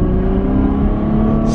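A Ferrari 488 GTB engine while driving, a steady loud in-cabin drone at constant pitch, no talking over it.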